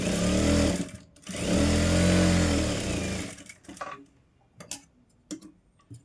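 A sewing machine runs in two sustained bursts while stitching a blouse, with a brief pause between them, then stops and gives way to scattered clicks and handling taps from fabric and parts being moved.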